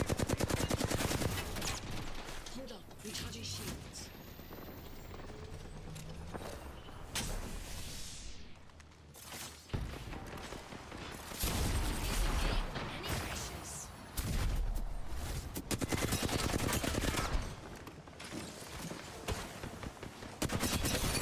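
Gunfire crackles nonstop in an Apex Legends match, dense rapid automatic bursts and heavy shots filling the clip with brief lulls, loud and close throughout, with some talking mixed in.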